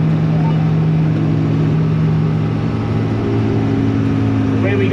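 An old engine, bought in 1958 and working a field, runs at full throttle with a loud, steady, rumbling drone throughout, and a voice may sound faintly beneath it.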